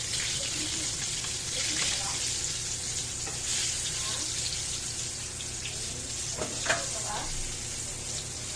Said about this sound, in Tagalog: i-fry natin para kasama sa ating pork binagoongan.